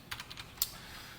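A computer keyboard is typed on in a quick burst of four or five faint close clicks, followed by one sharper keystroke and then quiet.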